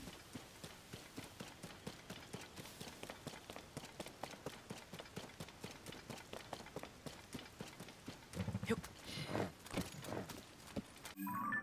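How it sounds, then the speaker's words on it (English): A horse galloping in Zelda: Tears of the Kingdom, rapid rhythmic hoofbeats repeating steadily throughout, moderately quiet, with a brief louder whoosh and a snort-like burst near the end. "And there's the horse."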